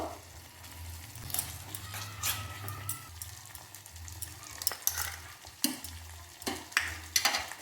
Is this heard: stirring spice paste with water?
yes